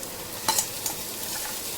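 Onion sautéing in a pan with a ginger, garlic and coriander paste, a soft steady sizzle with a few brief stirring scrapes, fairly faint and with no voices.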